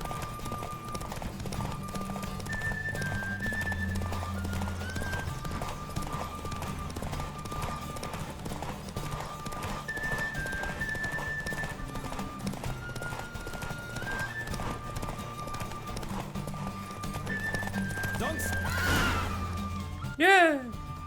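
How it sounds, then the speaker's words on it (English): Rhythmic hoofbeats of a galloping horse in a Witcher 3 horse race run steadily throughout, with a horse whinnying near the end, under a continuous background of game music and noise. "Don't spare the horse!"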